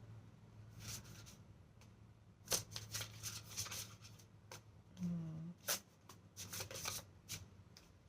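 Tarot cards are shuffled in soft, quick riffles and flicks, faint and close, in irregular bursts over a quiet room hum.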